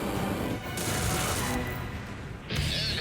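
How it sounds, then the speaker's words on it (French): A Vulcan rotary cannon fires from a jet aircraft, producing a loud, dense, unbroken roar in two long bursts separated by a brief dip. "Quand la Vulcan a tiré, je l'ai vue juste au-dessous de moi."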